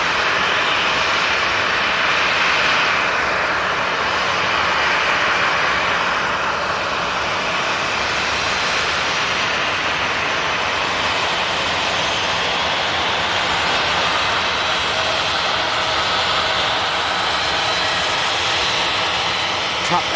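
A jet airliner roars steadily on approach to Manchester Airport, a loud continuous broadband engine rush that holds strong for the whole stretch with slight swells, no talk over it.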